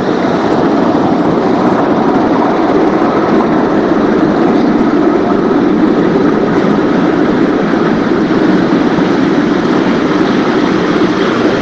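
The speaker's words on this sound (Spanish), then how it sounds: "En el subte." Continuous loud rumbling roar of a subway train riding through Buenos Aires, steady and unbroken throughout with no voices.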